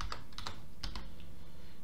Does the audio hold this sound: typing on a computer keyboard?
yes